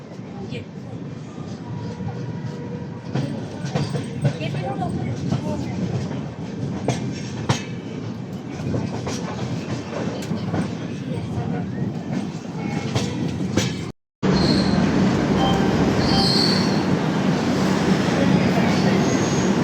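The Durg Yog Nagari Rishikesh Express passes at a large railway junction, a continuous rumbling roar of wheels and carriages with faint rhythmic clatter, steady and fairly loud throughout, briefly cut off near the end before resuming.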